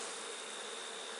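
Honey bees at an opened hive, a dense steady buzzing close by with no other sound in a brief stretch.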